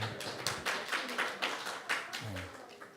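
A church congregation claps to welcome a young man home on his first leave, scattered moderate applause with uneven claps, fairly faint and a little distant, while a voice speaks briefly underneath.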